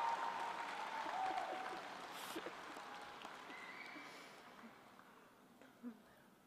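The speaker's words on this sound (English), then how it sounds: "clap them on, cheer them on, there we go." Graduation ceremony audience applauding and cheering, a broad steady wash of clapping that gradually fades toward the end.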